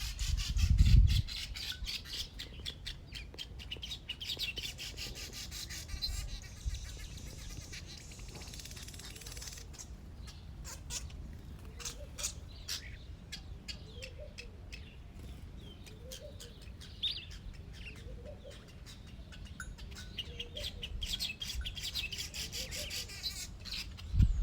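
Birds calling outdoors during a lockdown day, heard as repeated squawks and chirps at moderate distance over a rubbing, rasping background, continuous for the whole stretch without speech.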